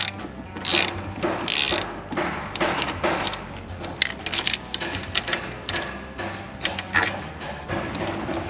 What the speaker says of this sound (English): With a 12mm key, we're gonna open this first bolts, these two bolts over here, this one and this one.